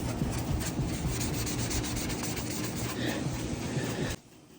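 A clay bar rubs back and forth across gritty car paint, a close, steady abrasive scraping rasp that runs continuously before stopping abruptly.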